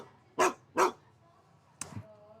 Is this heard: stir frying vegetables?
no